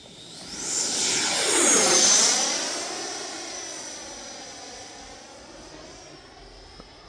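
An RC fighter jet making a touch and go: its turbine whine rises as it sweeps in close and loud, then fades away into the distance with a clear Doppler drop in pitch.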